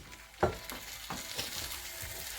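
Birria tacos frying in oil and consommé in a pan, a soft continuous sizzle with a few louder pops and crackles scattered through.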